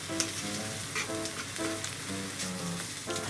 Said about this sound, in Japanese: まあとりあえずね5枚ほど焼いて、普通に両面ねしっかりと焼き色つけます。